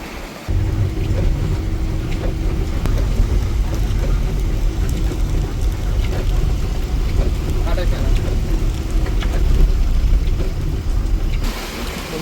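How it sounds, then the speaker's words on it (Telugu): Rain falls steadily over a container yard, a dense, even hiss of close, loud rainfall that runs unbroken through the whole stretch. "వర్షం పడతా ఉంది"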